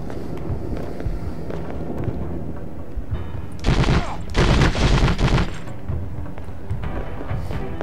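Weapon fire in the PS2 war video game Conflict Desert Storm 2: a dense burst of rapid gunfire erupts loudly over a busy, noisy game soundscape, pauses briefly, then fires again before fading back into the background.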